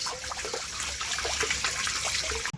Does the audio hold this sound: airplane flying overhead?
no